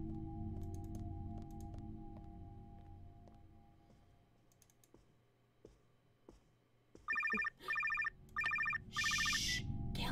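In the horror video game NightCry, a phone starts ringing in bursts of bright trilling rings after a stretch of faint clicks and footsteps, each ring loud and close with short gaps.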